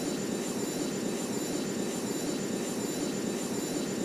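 A landing airplane on runway 09 produces a continuous, loud, broad engine roar with a steady whine, unbroken for the whole stretch.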